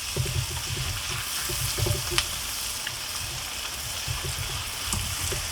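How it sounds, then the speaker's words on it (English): Slivered ingredients sauté in a pan during a Cajun-style Coca-Cola chicken cook, a steady close sizzle like light rain with a few soft pops, and no talking. "Go ahead and let those saute for a couple minutes"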